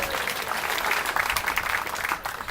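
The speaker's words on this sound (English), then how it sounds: "Let's give him another round of applause." An audience at a tribute event applauds steadily after a speech, a dense, even wash of clapping hands that carries through without a break.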